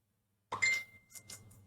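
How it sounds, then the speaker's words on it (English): Chiming phone notification alerts ring out in an attic where crypto mining rigs are kept, several bright tones stacking up close to the mic in quick succession with a steady low hum underneath. "Sorry about my phone going crazy,"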